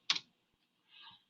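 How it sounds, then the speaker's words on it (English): A few keystrokes on a computer keyboard while an email is typed: one short, sharp cluster of clicks, a pause, then a softer second burst, close and quiet with no talking. "I'm typing up an email"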